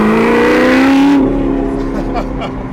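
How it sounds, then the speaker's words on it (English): A modded Nissan GTR engine idles up close, a steady low rumble with a brief rising whine early on, as people chat nearby. "Listen to this thing idle though"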